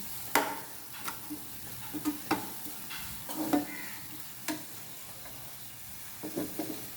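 Onion, ginger, green chili, garlic and curry leaves fry in a pan while a chickpea curry is made, giving a low steady sizzle broken by scattered scrapes and taps of stirring, fairly close, with no talk.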